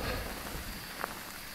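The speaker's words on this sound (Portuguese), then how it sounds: "Tá chovendo forte aqui" Heavy rain in the video game Phasmophobia, a dense steady hiss of downpour with a faint single drip-like tap, soft and continuous with no voices.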